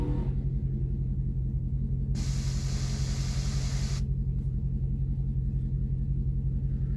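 A drag race car makes its final pass down the strip after a burnout, a loud, steady low engine rumble throughout, with a brief burst of broad hiss partway through.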